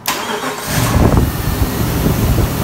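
A 1999 Jeep Grand Cherokee engine cranks and fires up after a blown fuse for the engine computer is replaced, catching at once and settling into a steady, fairly loud idle close by.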